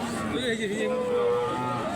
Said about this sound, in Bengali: দেখেন এটা কালো রঙের একটা দেশি গরু কত সুন্দর গরু